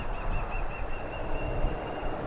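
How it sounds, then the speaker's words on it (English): A fish crow calls near Highway 1 at Juno Dunes in Florida: a short series of nasal, repeated caws over steady low traffic rumble, fairly clear and close. "There's a fish crow right over there."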